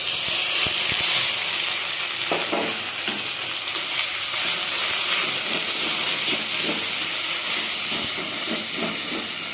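Ground spice paste is added to hot oil in a wok and sizzles loudly and continuously, with scattered scraping and stirring knocks throughout.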